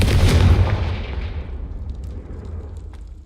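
In the video game Hogwarts Legacy, a Confringo fire spell hits with a loud, close, booming blast, followed by a rumbling decay that fades away over a few seconds.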